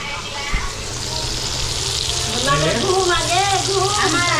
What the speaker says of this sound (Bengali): কড়াই আরও ভাজা হচ্ছে